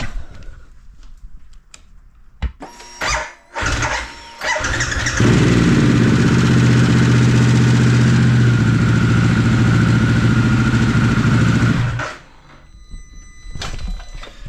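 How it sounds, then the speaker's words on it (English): A Harley-Davidson Pan America motorcycle being started during an oil change: a few clicks and a brief crank, then the engine catches and holds a loud, steady idle close by for about seven seconds before being shut off. "Give the engine a little start."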